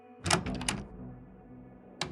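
A door opening in the horror video game Frequency Missing, a short burst of creaking and clatter followed by a quiet hum, then a second brief knock near the end, fairly close and with no voices.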